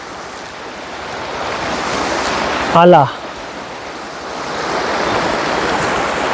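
Rushing water at Sheosar Lake in Deosai makes a steady broadband roar in the open mountain air, with wind mixed in and a brief spoken word cutting through midway.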